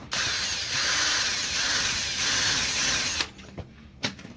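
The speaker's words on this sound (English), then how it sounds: "I do have a wire wheel on my drill" A battery power drill whirs steadily with a wire wheel spinning against the metal head of an old Pulaski axe, a harsh buzzing grind that stops abruptly, followed by a few clanks.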